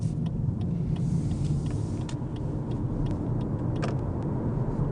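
A Lexus UX 300e electric car driving, with a steady low road and tyre rumble inside the cabin and faint scattered ticks and clicks, moderately loud, no voices.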